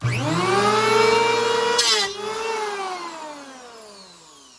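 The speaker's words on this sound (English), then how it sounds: "if you are putting more pressure on the end of this planer and your planer is tilted like this, what you're going to get is a groove cut out of here" An electric hand planer cuts a groove into a wooden board, its motor a loud, close, steady whine that shifts pitch as the blade bites, then winds down and fades away alone.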